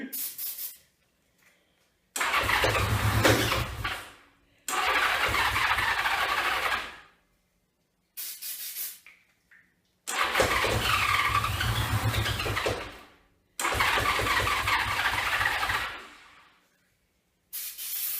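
A 1982 Honda Goldwing motorcycle cranks and struggles to start, giving repeated loud, rough bursts of a few seconds each with short silent gaps between them.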